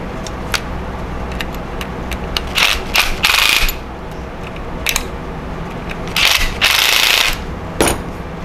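Repeated ratcheting clicks and metallic rasps as screws are driven tight on an electric planer blade, coming in short bursts with quiet pauses between them.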